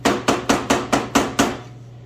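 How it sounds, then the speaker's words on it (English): Seven sharp metallic taps of a light hammer on a screwdriver, replacing a gas valve on a Lincoln Powermig 210MP welder, at a steady, even pace, each ringing briefly before the next, close by with a low hum underneath. "hammer and screwdriver. Just a little light tap."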